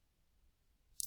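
A single sharp click of a computer mouse lands at the very end, after a near-silent stretch.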